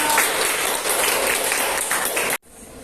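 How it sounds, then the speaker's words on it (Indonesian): A burst of dense applause from a group in a classroom, loud and continuous, cutting off abruptly near the end. "Tepuk tangan untuk semua kelompok."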